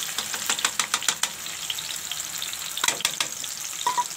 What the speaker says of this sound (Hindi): सबसे पहले तेल के अंदर टमाटर डालेंगे